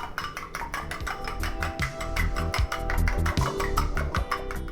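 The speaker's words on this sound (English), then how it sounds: "We will whisk for few seconds." Eggs being whisked for a spinach cheese omelette, a fork clicking rapidly and steadily against a bowl in a quick, even rhythm, close and alone.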